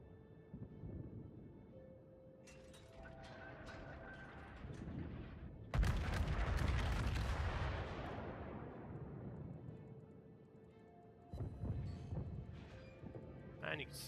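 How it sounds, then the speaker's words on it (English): A heavy battleship gun salvo in World of Warships, one sudden loud boom that rolls away into a long rumbling decay, set between quieter stretches with someone talking over the game. "you can see another salvo off at that New Mexico"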